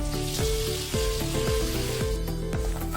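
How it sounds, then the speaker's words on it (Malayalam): Sugar caramelizes in melted ghee or butter in a hot pan for a no-oven chocolate banana cake, giving a steady, close sizzle with stirring that runs the whole time, with no talking. "എന്നിട്ട് ഇളക്കി കൊടുത്ത് പഞ്ചസാര ഒന്ന് കാരമലൈസ് ചെയ്തെടുക്കണം"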